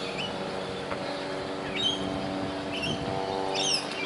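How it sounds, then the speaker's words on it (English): Several birds chirp outdoors near a 5G tower, with brief high tweets scattered over a steady low hum and faint distant traffic. "Hear a few birds, I've noticed."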